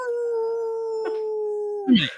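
A guard dog gives one long, clear, steady howl close by, ending in a short yip, with no talking over it.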